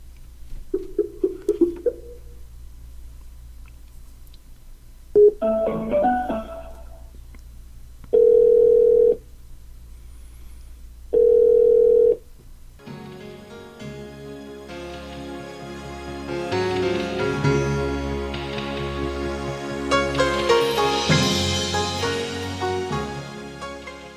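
A telephone call is placed: scattered dialing beeps, then two steady one-second tone bursts separated by silence, followed by the line connecting into a continuous hum of mixed sound.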